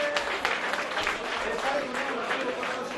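A crowd claps steadily for a player receiving an award at an amateur Sunday league football awards ceremony, sustained applause mixed with voices.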